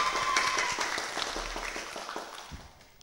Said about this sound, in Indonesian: Tepuk tangan untuk Kang Ajis Rismaya Mahfud.